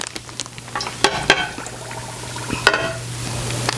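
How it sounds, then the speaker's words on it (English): Sugar being stirred in a pot to dissolve it, ten cups for candied figs, gives scattered scraping and gritty clinks of the spoon against the pot over a low steady hum, close and moderately loud. "I will stir the sugar to dissolve it"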